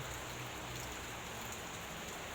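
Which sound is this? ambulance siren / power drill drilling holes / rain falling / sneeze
rain falling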